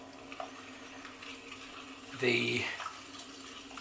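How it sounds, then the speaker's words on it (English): Water is poured into a bowl of chickpea flour for pancake batter, a short splashing gush about half a second long standing out between quiet bits of talk. "And then we pop the water in."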